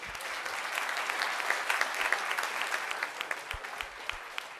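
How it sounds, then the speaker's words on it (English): A city council meeting audience gives a round of applause during proclamations. Steady, dense clapping from a crowd fills the room for several seconds, close and continuous. "Let's big round of applause for them"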